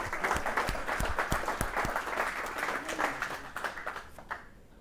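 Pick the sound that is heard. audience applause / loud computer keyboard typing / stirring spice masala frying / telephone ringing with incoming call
audience applause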